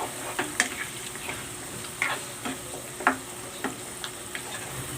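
Liver goes into a simmering pot of menudo, making a soft, steady sizzle with light clinks and scrapes of stirring scattered throughout, and no voices.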